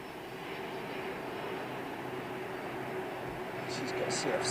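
An airliner with CF6 or Pratt & Whitney engines at Heathrow gives a steady, distant jet engine rumble, fairly faint, while people talk quietly over it.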